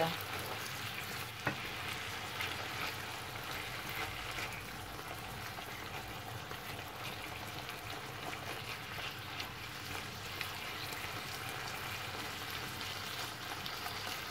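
Salted turnips sautéing with pork in a frying pan give off a steady, soft sizzle and bubbling hiss, continuous and fairly quiet, with one faint tap near the start and no talking.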